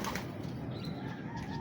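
Racing pigeons arrive back at the loft after release, their wings flapping in a steady, busy rustle close by, with soft cooing mixed in and no talk over it.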